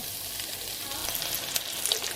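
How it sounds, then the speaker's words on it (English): Close, quiet sizzling from sausage frying in a pan, with small crackles and pops now and then. "the sizzle already starting"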